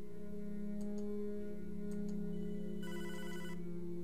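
A telephone rings in the video game Hotline Miami 2, with short electronic trills over a steady droning hum of game music, repeating at intervals and ending in a denser ringing burst.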